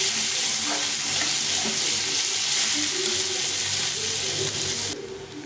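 Sliced onions frying in hot oil in a home kitchen, a steady dense sizzle running for several seconds before dropping slightly near the end, with no talking.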